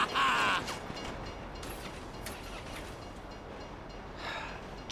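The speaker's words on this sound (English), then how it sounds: "If you were local, you'd know the train comes by right now!" A train in Grand Theft Auto V rumbles past with a steady mechanical rattle and faint clatter, starting with a brief high screech and swelling again at the end, with no speech.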